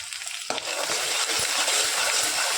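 Homemade masala being stirred into an Agri-style spicy chicken curry, a busy close sizzle of frying oil with a sharp scrape at the start and repeated soft scraping strokes of the spoon throughout.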